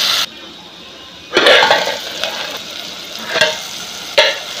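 Vegetable curry with broad beans being stirred in a pan, loud bursts of sizzling and wet scraping as the spoon moves through it, with quieter bubbling in between.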